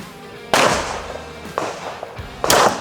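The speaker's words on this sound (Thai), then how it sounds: "สั่งครั้งเดียวยิง5 นัด" Three sharp, loud handgun shots cracking close by at an outdoor shooting test, spaced about a second apart, each followed by a brief echoing decay, with low background murmur between them.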